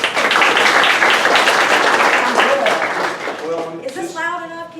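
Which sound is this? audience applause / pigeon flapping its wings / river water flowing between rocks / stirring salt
audience applause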